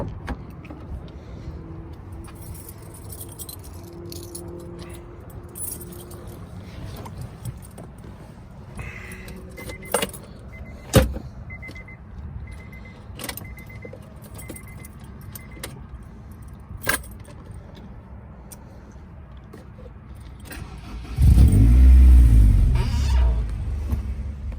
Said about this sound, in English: now we're gonna get in the Honda, fire it up, and go for a drive